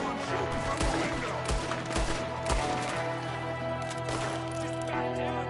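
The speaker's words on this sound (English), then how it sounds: "There's another one shooting from the window." Enemy gunfire in Red Dead Redemption 2 cracks out as rapid, overlapping shots in a loud burst, set against a steady game score.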